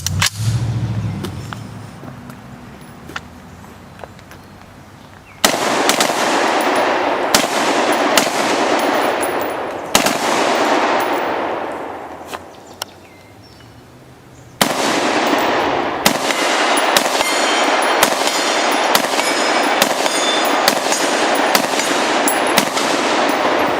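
An ARAK-21 rifle firing outdoors: several long rapid strings of loud, sharp shots with short pauses between bursts, each string echoing over steady background noise.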